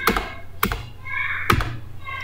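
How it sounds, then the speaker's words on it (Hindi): Three sharp, close keystrokes on a computer keyboard at irregular spacing while working in Tally accounting software, each a crisp clack with a brief thump. "एंटर प्रेस कीजिए"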